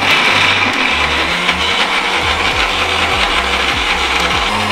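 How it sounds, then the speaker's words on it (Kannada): An Indian mixer grinder whirs loudly while blending a milk mixture, its motor droning steadily with repeated rising and falling pitch sweeps as the jar contents churn. "ಇದನ್ನ ಮಿಕ್ಸಿ ಹಾಕೊಳ್ಬೇಕು"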